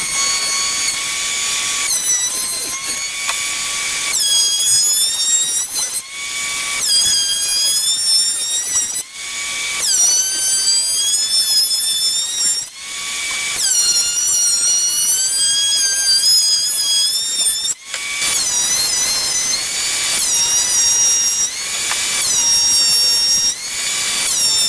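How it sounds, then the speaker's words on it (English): A thickness planer smooths the faces of freshly cut lumber boards, a loud, steady high-pitched machine whine that runs continuously through several passes, with brief dips between boards. "I'm going to run them all through the planer so I get two nice smooth faces"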